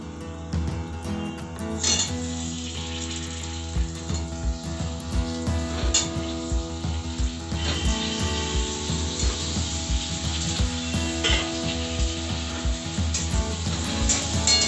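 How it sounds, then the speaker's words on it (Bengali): Chopped raw potatoes tossed into hot oil with chili powder for chicken biryani, a steady broad sizzle with scraping and stirring clatter running throughout, close and fairly loud, no voices. "এর মধ্যে আমি দেব হচ্ছে এই কেটে রাখা কাঁচা আলুগুলো"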